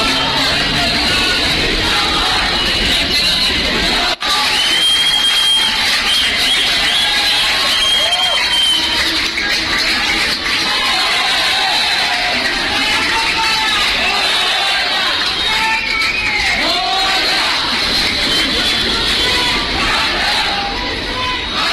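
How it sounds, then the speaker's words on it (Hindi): Crowd in Andheri reacting to the Chandrayaan 3 moon landing, with loud cheering, yelling and excited children's shouts rising and falling over a dense babble of voices, a brief sharp knock near the start. "उसके बाद अंधेरी में भीड़ देखिए और लोगों का रिएक्शन सुनिए"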